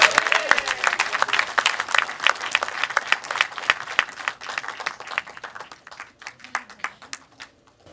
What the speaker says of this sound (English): Give a round of applause for Tom McLoughlin.